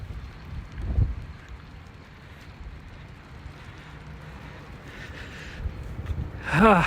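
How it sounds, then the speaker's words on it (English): Wind buffets the microphone in low gusty thumps and rumble, with a brief rising squeal at the end; no one speaks. "I got my hand over the mic. It's really windy."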